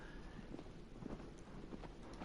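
Horse hooves clip-clopping in the video game Shadow of the Colossus, a steady soft patter of steps under low wind-like background noise, no voices.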